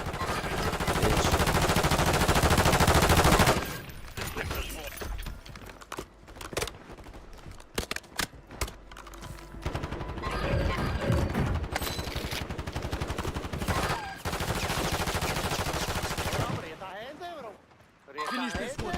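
Rapid automatic gunfire and bursts of shots in Call of Duty Warzone on Rebirth Island, loud and dense, with a sustained burst at the start and repeated volleys throughout under game sounds and some voice chatter.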